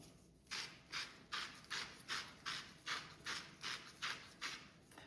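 A salt and pepper grinder cranks over a bowl of wing seasoning with paprika, garlic powder and black pepper, giving about a dozen evenly spaced, gritty ratcheting grinds, close and fairly quiet.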